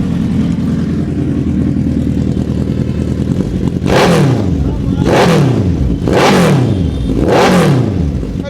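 A white used superbike with an aftermarket exhaust idles loudly, then snaps through three sharp throttle revs that rise and fall back to idle, close and alone without talk.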